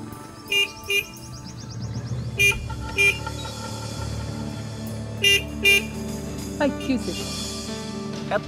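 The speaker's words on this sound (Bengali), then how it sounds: "এতবার হর্ন দিলাম, সাইড দাও না কে?" A car horn honks repeatedly on a busy street, sharp pairs of blasts in the foreground over steady traffic rumble, with a person speaking briefly.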